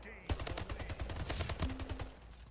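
Shotgun blasts and other weapon fire in the arena shooter Splitgate, a rapid series of sharp close shots in quick succession with a brief electronic tone near the end, fairly quiet overall.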